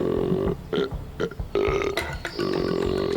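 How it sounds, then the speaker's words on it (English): A person lets out a series of deep, throaty burps used as a deer call, several drawn-out belches broken by short gaps, loud and close. "Right now, your best deer call burp."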